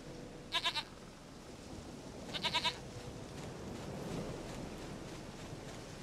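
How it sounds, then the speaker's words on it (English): A goat in The Witcher 3 gives two short, quavering bleats a couple of seconds apart over a soft, steady wind-like ambience. "Goat of mine, dearest, sweetest goat."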